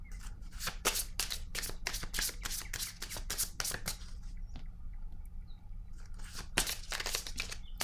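Tarot cards being shuffled and drawn, rapid bursts of riffling and snapping card sounds in quick succession, close and fairly quiet, with a short pause before a final few flicks.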